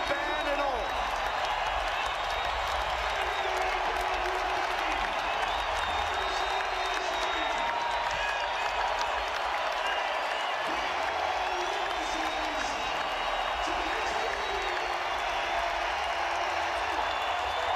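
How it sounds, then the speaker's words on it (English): A packed Denver basketball arena crowd gives Nikola Jokic a standing ovation, a steady, dense roar of applause and cheering that holds at an even level throughout, with no gaps. "Listen to the crowd for Nikola Jokic."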